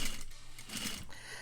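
A sewing machine runs steadily, stitching along a seam line near a facing on a curved edge, a continuous close mechanical whir with no pauses.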